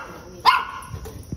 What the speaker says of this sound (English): Very protective watch dog, aren't you?